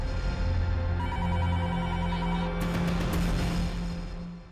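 A telephone rings steadily for several seconds in a quiet indoor setting, a continuous electronic bell tone with no voices over it.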